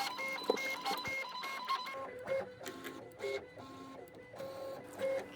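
Cricut cutting machine running, a close mechanical whir with repeated motor tones and rhythmic shifting pulses as the carriage moves back and forth.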